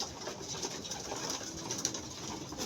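A racing pigeon back home at its loft coos softly, low and faint against a steady background hiss, with no talking.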